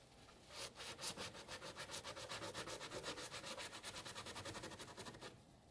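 Repeated scraping on a Yamaha P22 school piano's key lock to strip off old tape, a fast steady run of about twenty close rasping strokes with no talking.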